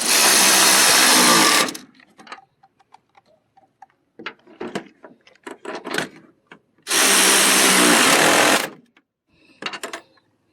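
Bolts on a serpentine belt pulley being tightened, with two long loud bursts of a power driver separated by clicks, clinks and ratcheting of hand tools, close and with no talk.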